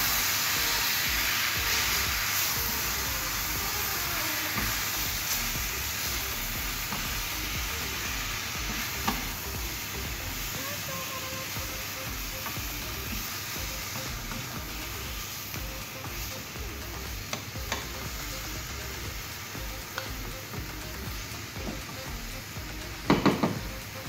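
Beef sautéing for beef mechado gives a steady, dense sizzle and hiss that runs unbroken throughout, with occasional faint stirring clicks and a brief clatter near the end.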